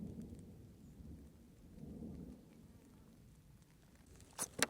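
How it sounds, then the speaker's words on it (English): Thunder rumbling in the distance during heavy weather on the outskirts of Klipplaat, South Africa: a faint, low, rolling rumble with soft rain-like patter, and a couple of brief sharper knocks near the end. "I can hear the thunder rumbling"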